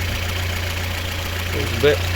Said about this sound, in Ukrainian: Шумний мотор, звісно, поршня гремлять